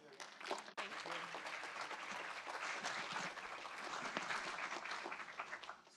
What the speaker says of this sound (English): Give a round of applause for Leslie.